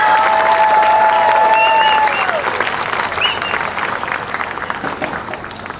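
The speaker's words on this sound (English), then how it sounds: "Please give the top 5 semifinalists one more round of applause." Audience applauding the top five semifinalists at a community fair queen pageant, steady loud clapping with a few whistles and cheers over it, tapering slightly toward the end.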